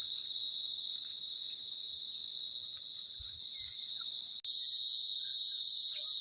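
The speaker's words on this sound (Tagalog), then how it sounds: "Naririnig nyo yung kuliglig." Crickets chirp in a dense, continuous high-pitched drone at a campsite outside Tanay in the afternoon, with one brief cut in the sound.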